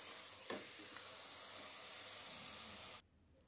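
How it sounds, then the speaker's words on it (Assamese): Meat fries with masala in a pressure cooker pan, a close, steady sizzle with a brief stirring knock early on, cutting off abruptly after about three seconds into near quiet. "মাংস ঢালি দিলোঁ, অকণমান সময় ভাজি প্ৰেছাৰ কুকাৰত ঢাকন লগাম"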